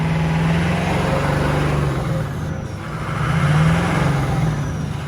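An abandoned Ford F550 truck that had sat for a long time runs with a steady, loud mid-pitched engine drone, swelling briefly as it revs near the end, close by with no talk.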